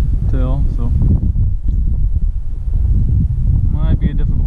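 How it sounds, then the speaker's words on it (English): Heavy low wind buffeting the microphone outdoors while bed fishing in San Antonio, a constant rumble, with a person talking over it. "Also pretty windy, as you can probably tell"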